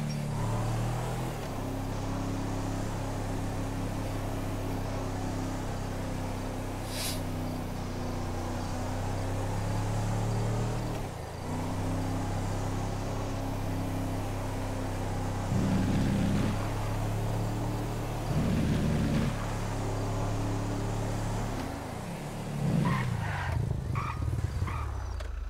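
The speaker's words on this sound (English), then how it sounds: "They're all street racing around Legion." Cars street racing around Legion in the FiveM game make a continuous, droning engine hum that stays loud and steady, with brief rising revs near the end.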